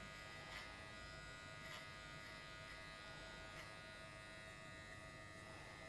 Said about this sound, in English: You really want to keep that clipper just pulling away from the head